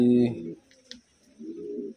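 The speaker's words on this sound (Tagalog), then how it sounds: "Ayan yung mga ibon." Pigeons coo in short, low throaty bursts, one at the start and another near the end, close and clear with a quiet gap between, and a person speaks briefly alongside.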